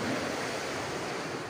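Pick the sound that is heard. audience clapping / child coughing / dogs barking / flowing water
flowing water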